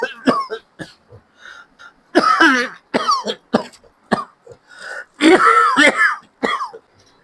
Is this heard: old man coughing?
yes